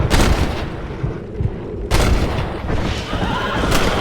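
Gunfire in the Western video game Red Dead Redemption: a few loud, booming shots spaced apart over a busy mix that includes horse whinnies.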